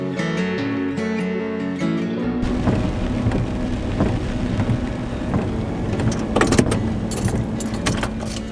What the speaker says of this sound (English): We came back on the walk just in time before the rain started again.